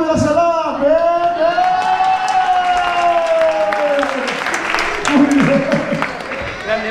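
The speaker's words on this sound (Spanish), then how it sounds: "Oye, un aplauso también para mi hermanito." An audience at a competition final breaks into loud applause mixed with drawn-out whoops and cheers, and the clapping grows denser toward the end.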